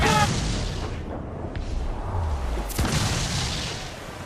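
Ship cannons firing in Assassin's Creed IV Black Flag, a loud booming blast followed by rumbling low thuds and a sharp crack, heavy and close amid noisy battle ambience.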